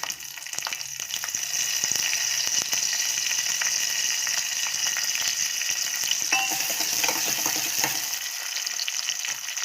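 Green chillies frying in a pan: a steady, close crackling sizzle with scattered sharp pops and light stirring, continuous and fairly loud with no talk.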